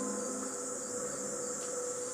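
Crickets chirp in a dark outdoor scene in the horror video game White Noise Online, a steady, dense trill that is constant and fairly faint, with no talk over it.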